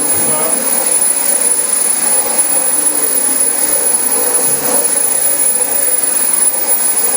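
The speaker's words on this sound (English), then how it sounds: "Now we bought this Dyson brand new in 2011, and we used it really heavily the first year or so we had it." A Dyson DC25 upright vacuum cleaner, bought new in 2011 and heavily used, runs steadily with a loud, constant whine and airy roar that holds unchanged from start to finish.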